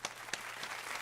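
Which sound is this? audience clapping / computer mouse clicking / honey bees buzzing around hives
audience clapping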